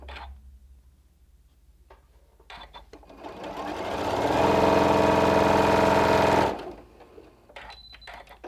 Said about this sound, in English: A couple stitches forward. Couple stitches back, and then sew to the edge.